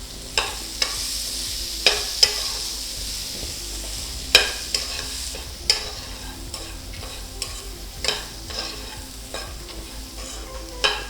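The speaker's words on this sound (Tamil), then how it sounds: "சுண்டல் எல்லாத்துக்குமே நல்லெண்ணெயில் தான் தாளிக்கணும்." Mochai sundal being tempered in sesame oil in a pan: a soft continuous sizzle broken by a dozen or so sharp spoon clinks and scrapes as it is stirred, with no talking.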